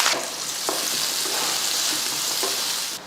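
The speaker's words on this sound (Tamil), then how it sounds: "ஒரு பக்கம் கடாய் வச்சுட்டு இது போல் நல்லெண்ணெய் ஊற்றிக்கலாம். எண்ணெய் காஞ்சதுமே ஒரு பெரிய வெங்காயமும் அப்புறமா கொஞ்சம் கருவேப்பிலையும் சேர்த்துடலாம்" Onion and curry leaves fry in sesame oil in a kadai, a loud continuous sizzle and crackle with a few soft stirring clicks, close and without speech.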